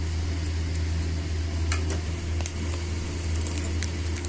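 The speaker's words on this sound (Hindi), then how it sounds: "देखिए ऐसे दरदरे से पीसने हैं।" Roasted makhana (fox nuts) being coarsely ground in an electric grinder: a steady, close motor hum and whir with faint scattered ticks of the pieces, no voices.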